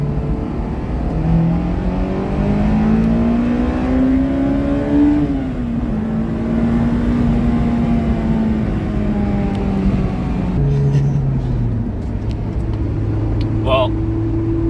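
A Honda S2000 roadster drives along with its engine note rising and falling through gear changes, a loud, close, steady in-car drone with a person talking over it.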